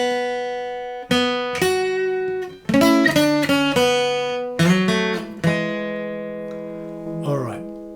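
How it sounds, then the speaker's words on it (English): Lead guitar line from a song, likely on a Stratocaster-style electric guitar: clean sustained single notes and short phrases with ringing decay, played alone and fairly loud, ending in a bent, wavering note. "there's a really nice piece of lead guitar."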